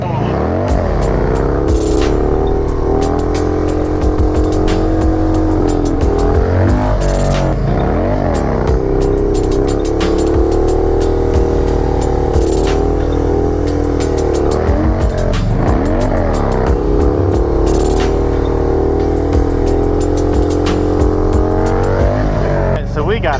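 A Harley-Davidson motorcycle engine revs loud and close in repeated surges, dropping and climbing again with a crackling exhaust while a voice talks over it throughout.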